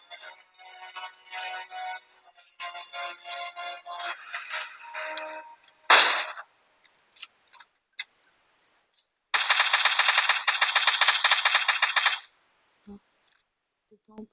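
Video game gunfire in a battle royale match, with bursts of rapid automatic fire, a sharp single blast, and then a long sustained volley emptying the magazine, all loud and close, with sparse voices between bursts.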